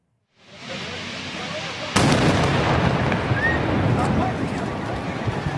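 Explosions at an unlicensed LPG station in Bucharest, with a sudden loud blast about two seconds in rising out of steady roaring noise, followed by continuous rumbling and crackling.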